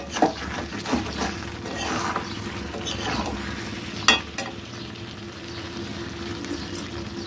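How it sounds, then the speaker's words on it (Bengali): Water going into a pot of sautéed meat for home-style biriyani, a steady wet wash with some stirring and sizzle, one louder splash or clatter partway through and low cooking noise continuing throughout. "আমি দিয়ে দিচ্ছি জল।"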